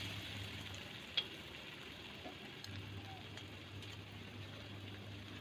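Shrimp ball batter fries in hot oil over a low flame, giving a faint, steady sizzle over a low hum, with one small sharp tick near the start.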